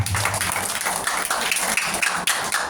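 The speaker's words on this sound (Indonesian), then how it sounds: "Tepuk tangan lu buat Tuhan." Church congregation at a women's revival service clapping hands in praise, a continuous loud, dense clapping with rhythmic pulses, close and filling the room, with faint voices beneath.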